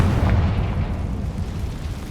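A Confringo fire spell bursting in Hogwarts Legacy, a heavy, dense explosion rumble that rolls on and slowly fades with nothing quieter in between.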